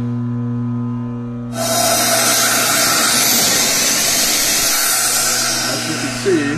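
A high-speed VSR balancing machine spins a turbocharger up toward 150,000 RPM, jumping abruptly into a loud, sustained high-pitched whine and roar over a steady mechanical hum, close and continuous.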